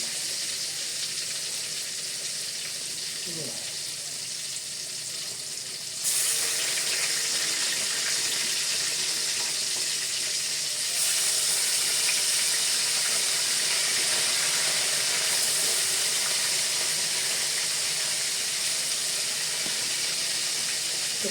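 Tempeh deep-frying in a generous amount of oil, a steady close sizzle and hiss that runs the whole time and grows a little louder partway through, with no talking.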